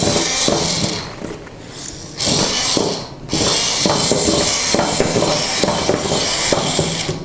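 A battery-powered toy robot running on a 9-volt battery, a loud, steady mechanical whir and rattle that dips briefly twice before resuming, close and continuous.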